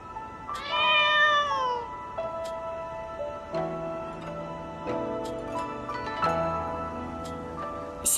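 A kitten in the Moonlight Blade video game gives one clear, drawn-out meow lasting about a second, followed by soft sustained game music tones.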